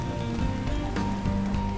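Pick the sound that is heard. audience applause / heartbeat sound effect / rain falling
rain falling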